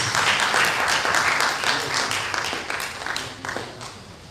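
An audience claps at the official opening session of a University of Ilesa advisors workshop, a loud burst of applause that gradually thins and fades over four seconds as individual claps become audible.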